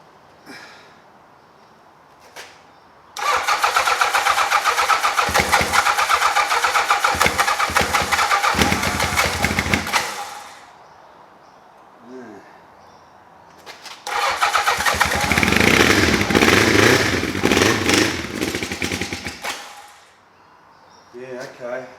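An old Yamaha XJ 650 motorcycle engine on choke cranks and catches twice, each time running roughly for several seconds before dying, with quiet gaps and a voice between the runs.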